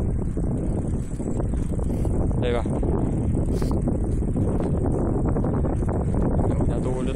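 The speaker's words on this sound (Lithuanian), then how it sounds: "jaučiu nieko negirdi, nes švilpia vėjas" Wind whistles and buffets a microphone outdoors on a walk home, a steady rushing, rumbling roar that fills the whole clip while a person talks over it.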